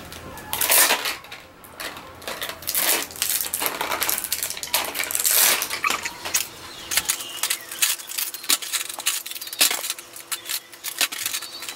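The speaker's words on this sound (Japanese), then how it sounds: "とりあえず袋を開けたので開封していきたいと思います" Plastic bags and boxes of Chocoball chocolate candy being torn open and handled up close, with dense crinkling, rustling and sharp clicking snaps running continuously throughout.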